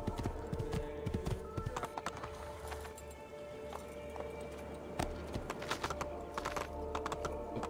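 Horse hooves clip-clop continuously in Assassin's Creed II, a busy run of hoof strikes over a low rumbling bed with occasional sharper clatters, fairly close and steady throughout.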